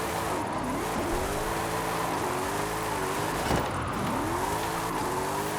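A car drifts through corners in Forza Horizon 5, with a steady, loud engine roar whose pitch dips and climbs repeatedly as the throttle shifts, continuous and close with no talk.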